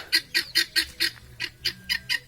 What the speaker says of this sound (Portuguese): Aqui temos galinha de mato também, que nós criamos galinha de mato aqui